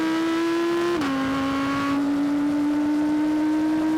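An Audi R8 GT accelerates hard in a drag race, its engine note loud and steady, dipping briefly at a gear change and then climbing again without a break.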